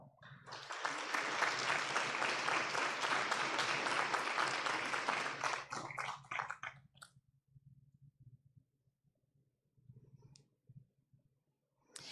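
Audience applause for student authors at a school board meeting, a dense burst of clapping lasting about six seconds before it fades into scattered claps and quiet room noise.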